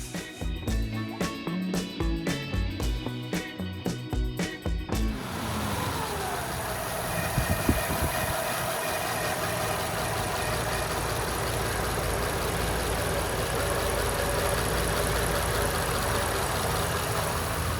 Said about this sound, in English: Now we got it running like it should